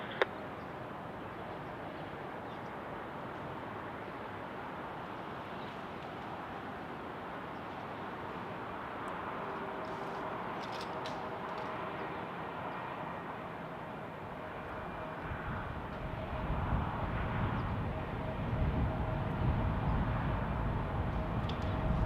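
SkyWest jet airliner taking off from runway 34 right at a busy airport: a steady, distant engine roar that holds evenly, then swells louder and fuller toward the end as the thrust builds.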